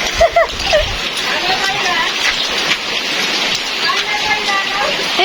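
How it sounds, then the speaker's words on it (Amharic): Rainwater pours steadily off a corrugated tin roof edge in a loud, continuous rushing hiss, close by, with brief voices and sounds at the start. "ዝናብ አይደል ለምን ይሄ ቆርቆሮ በዚህ አጥራሙ እዚህ ጋር እየደፋ ስለሆነ"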